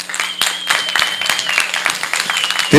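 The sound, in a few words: audience clapping hands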